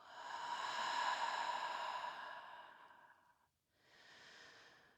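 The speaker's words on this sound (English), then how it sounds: "take a deep, nourishing, energizing breath of arrival, inhaling and letting it go" A deep breath during a morning yoga flow: a long, audible inhale swells and fades, a brief pause follows, then a softer exhale, close and alone.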